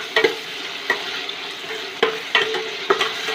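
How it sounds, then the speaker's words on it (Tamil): Tomatoes and tamarind sautéing in a pan for brinjal pachadi: steady sizzling, broken by a few sharp scrapes and clacks as a spoon stirs, all near and with no voices. "புளியை சேர்த்துடலாம். சேர்த்து வதக்கிடலாம்."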